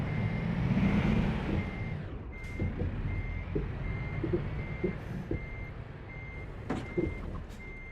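Steady reversing beeps from a truck, evenly spaced and fairly close, over a rumbling engine with occasional clanks and hisses.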